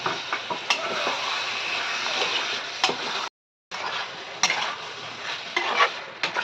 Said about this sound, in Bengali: এই যে কষাচ্ছি আর একটুখানি কষাবো